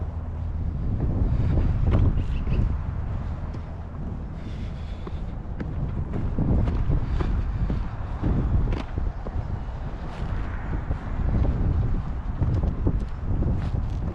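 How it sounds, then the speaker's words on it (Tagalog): Steady gusting cold wind buffets the microphone at a dark early-morning roadside, a low, continuous rumble rising and falling slightly, no voices present. "Ang lamig nung simoy ng hangin"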